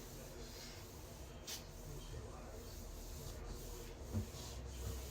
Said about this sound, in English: Now I'm going to go ahead and push it down, smooth it out with my hand.